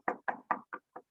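Five firm knocks on a door in an uneven rhythm, close and loud, with a brief pause before the last two. No voices.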